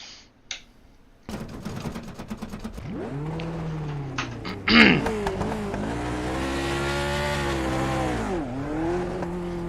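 An iRacing sim race car launches from the pit at Donington: a few clicks, then the engine revs up through rising gear pulls, loud and close, with a sharp shift bang midway and a steady high drone after.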